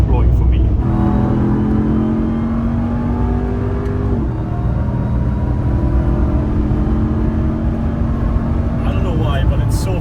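A 707-horsepower Dodge Ram TRX pickup, a heavy 3.5-ton truck, roars at high speed on a German autobahn, its engine drone and wind noise holding steady with a brief gear-shift dip midway, as someone talks over it.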